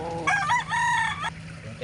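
A chicken gives a short crowing call over about a second, close and clear against a quiet yard hum.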